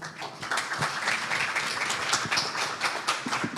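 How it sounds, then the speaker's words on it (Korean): At a 2022 digital manufacturing innovation conference, the audience gives steady, moderately loud applause to welcome a speaker, with individual claps clearly audible throughout. "박수로 맞아주시기 바랍니다"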